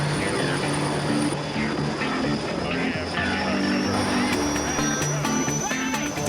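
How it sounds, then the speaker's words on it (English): A Sikorsky S58 helicopter fires up and runs, its engine and rotor making a loud, steady, continuous drone throughout, with a fast rhythmic beat in the rotor noise. "With Adam set for his Virgin chopper ride, the big dog, or Sikorsky S58, fires up."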